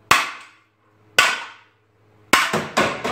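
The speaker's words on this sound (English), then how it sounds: "I want to hit it with a hammer." Sharp metallic hammer strikes on a Mustang's exhaust, ringing out, two spaced blows followed by a quicker burst of three, each with a short decaying clang.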